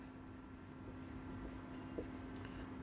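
A pen writing a journal entry on paper makes soft, faint scratching strokes in short bursts over a quiet room with a low electrical hum.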